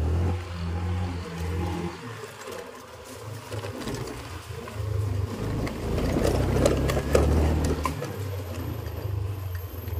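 Honda Vario scooter engine, one with a fault that makes it run on its own without throttle, revved in a workshop: a low steady engine drone that swells louder for a few seconds mid-way, then settles back.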